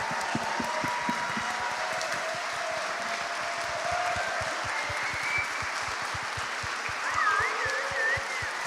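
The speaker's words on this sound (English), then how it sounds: "please stand up so we can give them a round of applause" A seated audience at a horror game awards show applauds the honorees, giving continuous, moderately distant clapping with a faint whistle or cheer near the end.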